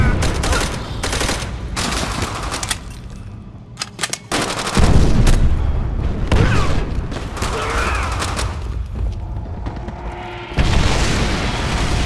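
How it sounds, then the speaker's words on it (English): Gunfire and exploding barrels in the World War II shooter Call of Duty: World at War, with dense machine-gun bursts and heavy booms rolling over one another in a loud, continuous battle din. "Shoot those barrels!"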